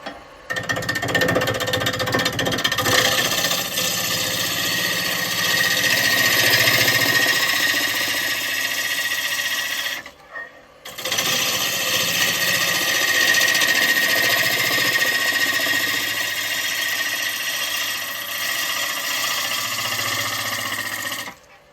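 A wood lathe spins a rough lump of ash with a loud, steady mechanical whir and rumble, cutting out briefly partway through before starting again at the same level.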